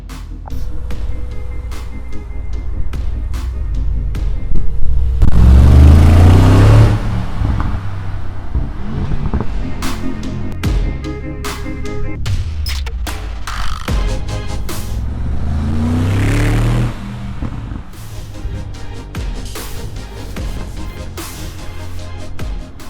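A Mercedes-Benz G-Class BRABUS engine revs hard in two loud bursts that swell and fall back, with a steady idling rumble between and after them, heard close up.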